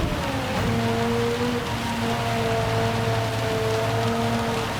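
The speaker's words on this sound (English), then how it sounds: "the rain's almost as loud as the car engine sounds, really beating down." Heavy rain pours down during a wet race in Gran Turismo 7, a dense, steady hiss across the whole stretch with faint sustained engine tones humming underneath.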